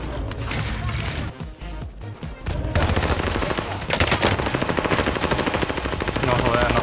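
Dense automatic gunfire in the Warzone video game, rapid loud bursts rattling almost continuously, with brief voices in the mix.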